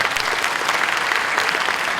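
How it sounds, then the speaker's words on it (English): A seated audience at an opening ceremony for the Darmasiswa 2014/2015 program claps steadily in a dense, continuous burst of applause that fills the room for the full two seconds, with no talk over it. "Please big applause for both of them."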